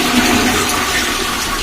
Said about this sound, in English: Now I will show you by flushing the water tank.